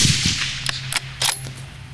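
A .243 Winchester rifle, a Savage, fired at a 400-yard range, with several sharp, brief cracks spaced across the moment and a steady low hum running underneath.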